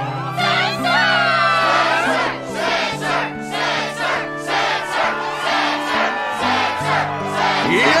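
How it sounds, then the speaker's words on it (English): A fired-up arena crowd roars and cheers at the Struggle tournament in Kingdom Hearts II, loud sustained shouting and whooping from many voices that swells and surges in waves. "Yes, the crowd is fired up,"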